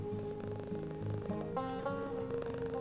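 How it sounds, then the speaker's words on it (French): Soft kitten purring mixed under gentle background music for an animated children's story, quiet and continuous with no voices. "Un petit ronronnement de bonheur l'envahissait."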